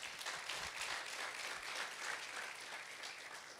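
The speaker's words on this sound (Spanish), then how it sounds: "Denle un fuerte aplauso al Señor." A church congregation applauds the Lord during a sermon on family, with even, sustained clapping that sounds somewhat distant and quiet and keeps going without pause.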